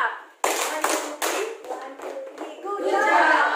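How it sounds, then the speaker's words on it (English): Classroom of young pupils clapping together for a classmate, a burst of hand claps with a few separate strikes, then children's voices chattering over the fading applause. "Let's give Hazel a good job clap."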